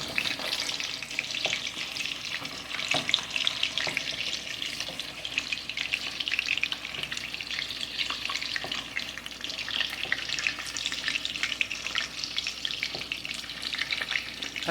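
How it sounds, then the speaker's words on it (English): Meatballs (polpette) fry steadily in a pan, a dense continuous crackle and sizzle with occasional sharper pops and scrapes, close and even throughout with no voices. "they're starting to fry up really nice now"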